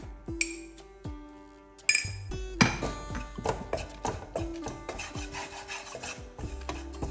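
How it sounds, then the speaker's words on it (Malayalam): Masala with turmeric powder for a chickpea curry being stirred in a pan, heard as steady scraping and rasping of a spatula with bright metallic clinks and taps against the pan, close and fairly quiet, with no talking. "അതിൻ്റെ പച്ചമണം മാറുന്നത് വരെ ഒന്ന് വഴറ്റിയെടുക്കാം"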